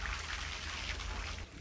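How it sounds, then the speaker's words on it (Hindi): Light rain drizzling outside a mud house on a summer day, a steady soft hiss of fine drops with no distinct pattering and no voices. "बारिश जो है वो हल्की हल्की लगी हुई है बूंदा बांदी"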